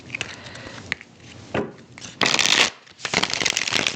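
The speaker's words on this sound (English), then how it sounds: "Let's get some tarot cards just to see." Tarot cards being shuffled up close, with scattered taps and rubs followed by two loud, dense riffling bursts of cards flicking together.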